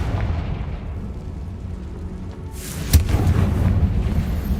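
A Confringo fire spell cast in Hogwarts Legacy bursts as a sudden sharp blast, followed by a rumbling fiery roar, over a dense low background hum of game ambience.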